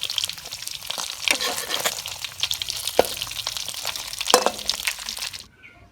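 Fish frying in hot oil makes a loud, steady crackling sizzle with bursts of spitting pops throughout, ending abruptly in near silence.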